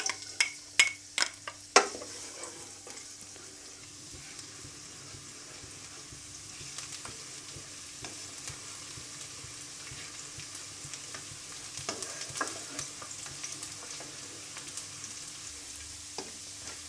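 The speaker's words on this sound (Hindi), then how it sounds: "अब इसमें लहसुन डालकर इसको सोते कर लेंगे।" Garlic sizzles in two tablespoons of hot oil while making chicken Schezwan soup, with several sharp clatters of stirring at the start, then a steady low frying crackle with occasional taps.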